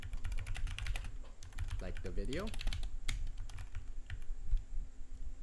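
Keystrokes on a computer keyboard typing text into a Google Docs bulleted list, a steady run of close, crisp clicks with a voice speaking briefly over them.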